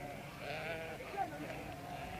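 Sheep bleat faintly in a small remote village, a soft wavering call rising briefly over steady low background noise.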